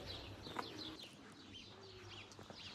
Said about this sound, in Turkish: Şimdi kuş sesleri eşliğinde ilerliyorum.